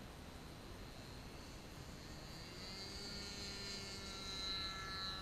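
A Kadet LT 40 model airplane engine drones steadily at takeoff, a faint, distant buzzing whine that holds level and climbs slightly in pitch toward the end, with no voices.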